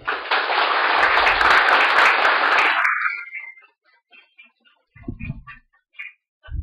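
Loud applause from a live audience at a business talk, dense clapping for about three seconds before it breaks off, leaving a quiet room with a few faint sounds and low thumps.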